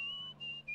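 A faint, very short whistled tone from the whistling minigame in the video game Where the Water Tastes Like Wine holds a steady pitch, dipping briefly twice, alone and quiet.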